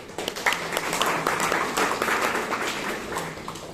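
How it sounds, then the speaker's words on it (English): Applause from an audience at a Toastmasters meeting, a steady wash of many hands clapping that keeps up evenly at moderate level, faintly distant. "Let's give all the tackling players a good round of applause"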